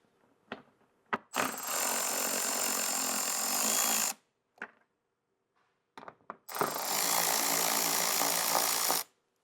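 A power tool or impact driver backs 10mm bolts out of the front bumper of a 2024+ fourth-generation Tacoma in two long, loud, steady bursts of whirring, with small clicks and taps of handling before and between them.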